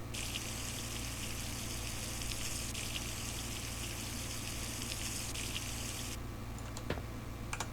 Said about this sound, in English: We'll just pop some water in this guy.